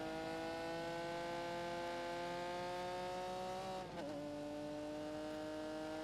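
Sports car engine held at full throttle in The Grand Tour Game, a steady, loud, high-pitched racing whine with a brief dip and shift near the four-second mark, alone without talk.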